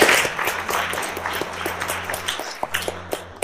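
Applause from a church audience at a Marian talk starts loud and fades into scattered, sharper claps, while a steady low hum runs underneath.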